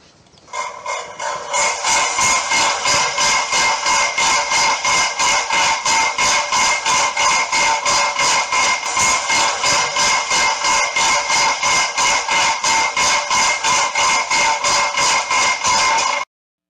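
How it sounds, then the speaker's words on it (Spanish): A Whirlpool washing machine on its spin cycle, with a worn transmission ratchet, makes a fast steady clacking that repeats evenly for the whole stretch after a short start, loud and close with no voices. "Veamos el ruido de esta lavadora en el centrifugado."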